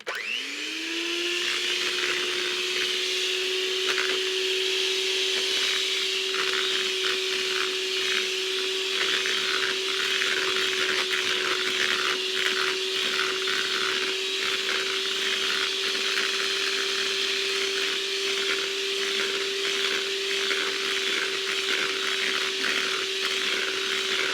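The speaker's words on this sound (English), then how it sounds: "we're going to use a mixer again, so here goes." Electric hand mixer whipping egg whites for meringue in a key lime pie recipe, a steady high-pitched motor whine that spins up at the start and then holds one constant pitch, loud and unbroken with no talking.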